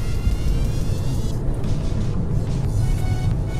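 A Hyundai Kona Electric SUV drives on a track, heard as a steady, loud low road rumble with wind and tyre noise that swells slightly as it moves, with no talking.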